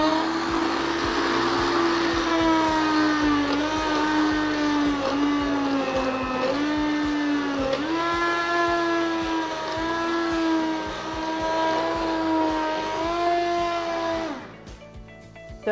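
A blender whirs steadily while blending homemade BBQ sauce in a tall pot, a loud continuous motor whine with slight pitch dips, then cutting off near the end.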